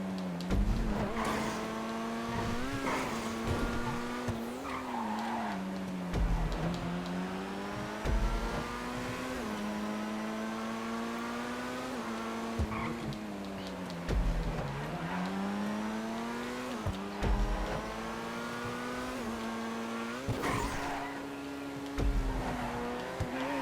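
An Itali GTB sports car races laps in GTA 5, its engine droning loud and continuous as it rises and falls through the gears, with occasional tyre squeals and bumps.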